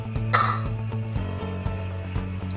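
A metal weight is fitted onto the vent of a pressure cooker lid in a kitchen, with a close metallic clatter and a series of small ratcheting clicks over a steady background hum.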